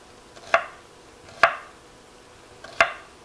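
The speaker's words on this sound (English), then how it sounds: "Cut these into strips." Three sharp knife chops cut bell peppers into strips on a cutting board, evenly spaced crisp thuds about a second apart, close and clear with no talking.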